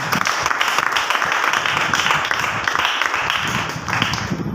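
A congregation at a church sermon claps together, a loud, dense and continuous patter of many hands with no talk over it.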